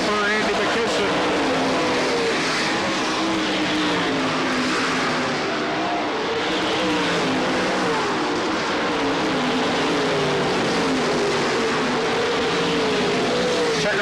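Sprint cars racing at Sharon Speedway during the 2000 All Star Sprint Nationals, a continuous loud engine roar from the pack on the last lap, dense and unbroken throughout.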